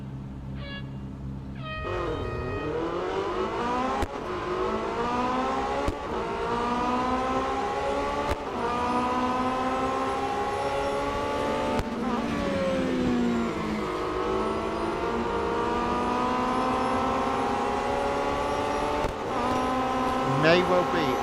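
Race car engines in the Real Racing 3 video game, a steady sustained drone of revving that climbs and shifts pitch through gear changes, loud and continuous throughout, with several cars running together.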